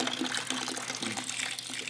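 Water gushes steadily from a tap into a bathtub, a continuous close rushing and splashing that holds at an even level throughout.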